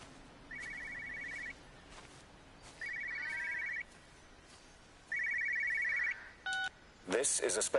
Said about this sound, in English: Now I hear a phone somewhere.